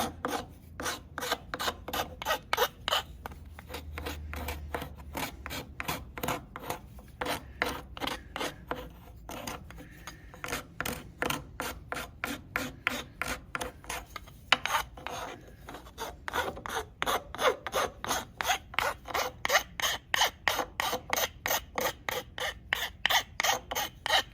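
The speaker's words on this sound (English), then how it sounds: "I need to do a lot more filing and sanding out here on the corners." Rhythmic strokes of a file and sandpaper rasp against the wooden corners of a pull string top's handle, a steady near back-and-forth scraping that pauses briefly and resumes, with no talking.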